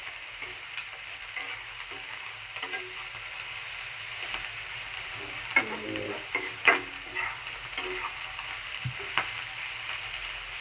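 Onions fry in oil for a shrimp bhuna, a steady, moderately quiet sizzle with a few utensil scrapes and taps scattered through it.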